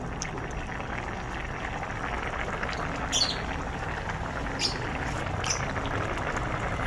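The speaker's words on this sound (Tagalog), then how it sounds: "Luto na to guys. Kumukulo eh." A steady bubbling simmer of chayote boiling in a pot on a stove, a continuous wet roiling texture with a few brief faint clinks, no voices.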